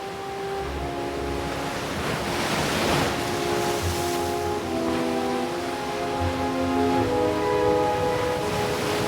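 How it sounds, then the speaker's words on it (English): Steady ocean waves and surf wash continuously as game ambience in the Nancy Drew adventure Danger on Deception Island, a broad, even roar with no speech over it. "Maybe the ocean sound's part of the reason I gotta pee so much today."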